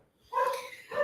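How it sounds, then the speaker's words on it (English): A dog gives a short single bark or yip indoors, close and brief, with a second sound starting just after. "that's the dog barking because the cleaners arrived"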